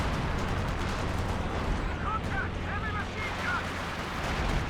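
Artillery and small-arms gunfire from a Company of Heroes 2 multiplayer battle, a dense continuous rumble of distant explosions and shots beneath a commentator's voice.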